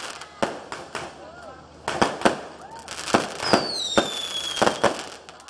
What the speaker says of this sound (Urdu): تقریب کے دوران آتش بازی کا شاندار مظاہرہ کیا گیا۔